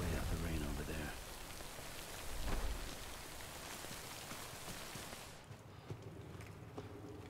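Steady rain in Death Stranding: Director's Cut hissing across the scene, a dense wash of drops with a brief heavier burst midway, continuing throughout.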